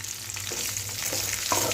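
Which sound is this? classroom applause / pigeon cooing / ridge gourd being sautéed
ridge gourd being sautéed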